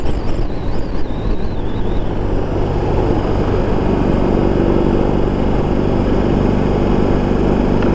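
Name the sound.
BMW R18 motorcycle engine while riding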